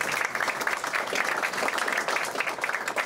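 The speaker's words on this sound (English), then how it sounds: "So give a big round of applause to yourself." Loud, dense applause from an audience at a political action committee gathering, continuous clapping filling the whole moment with no pause.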